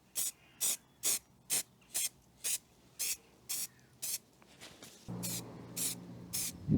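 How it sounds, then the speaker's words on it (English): Weld-through primer hisses from an aerosol can in about a dozen short, evenly spaced bursts, followed by a few longer sprays over a low background hum near the end. "use this weld through primer and give it just a little bit of a coating"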